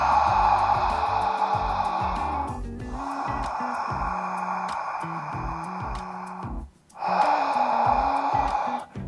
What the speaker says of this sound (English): Now, you may have heard of Ujjayi breathing.